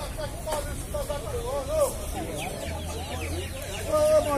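Chickens at a poultry fair in Palmeira dos Índios, Alagoas, clucking repeatedly and nearby in short bursts, with a steady murmur of market voices and people talking beneath them.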